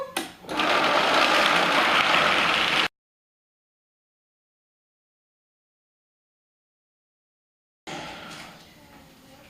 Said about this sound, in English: And then we just blend. We blend for a while, I guess.